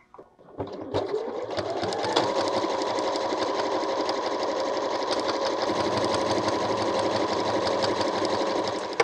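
Sewing machine top stitching appliqué pieces of a bee cushion with greeny blue thread, fabric backed with quilt wadding; a steady, fast continuous whirring hum running unbroken after a brief start, close and alone.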